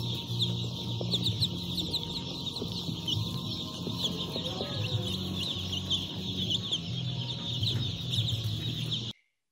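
A mother hen clucks steadily among her chicks, their high peeping layered over low hen murmurs in a continuous close barnyard chorus that cuts off abruptly at the end.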